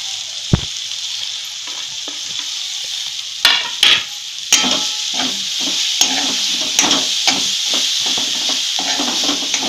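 Dried mackerel chutney sizzles steadily in oil while being stirred and scraped with a spoon, several sharper knocks and scrapes standing out over the continuous close frying hiss, with no talking.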